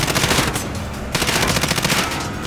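Sustained automatic gunfire in a Call of Duty match, rapid rounds rattling loud and close in a continuous burst with a brief break near the middle before the firing resumes.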